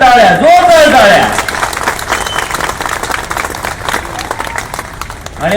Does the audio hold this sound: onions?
no